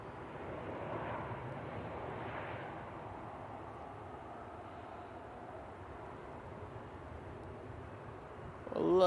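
A KLM airliner floats low over the runway before touching down at Manchester Airport, its steady distant engine roar washing broadly beneath outdoor ambience, with a sharper rise in noise in the final moment.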